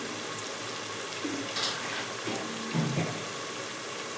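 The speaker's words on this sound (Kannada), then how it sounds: "ಈಗ ನೀರು ಹಾಕೊಂತಾರೆ ನೋಡಿ." Water pours into a cooking pot while making avalakki (flattened rice), a soft, steady splashing stream heard close up with a few small clinks and no talking.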